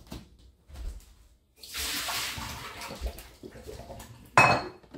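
Water poured out of a bowl of sliced raw potatoes in a kitchen, a brief splashing rush with a clatter of the bowl near the end, close and with no talking.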